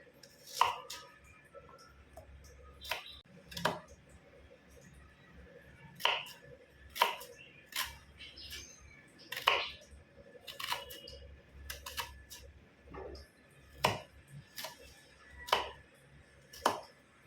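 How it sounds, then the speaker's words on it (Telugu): Onions are chopped into small pieces on a board, giving sharp, crisp knife knocks at an irregular pace, close and fairly quiet, with no talking. "ఇప్పుడు ఆనియన్స్ని మనము చిన్న చిన్న పీసెస్లా కట్ చేసుకుందాం"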